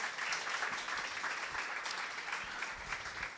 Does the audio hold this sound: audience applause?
yes